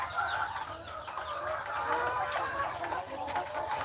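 Several roosters and hens in a neighborhood setting cluck and call continuously at moderate distance, a dense layered chorus of fowl without pause.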